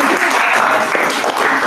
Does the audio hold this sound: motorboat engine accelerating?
no